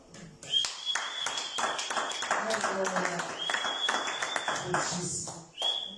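A church congregation claps during a service, irregular sharp hand claps scattered across the moment, mixed under ongoing voices and moderately loud.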